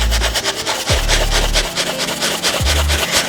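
A brush scrubs varnish onto a painting canvas with loud, close, steady rubbing strokes, a few heavier pushes breaking the rhythm, and no voices.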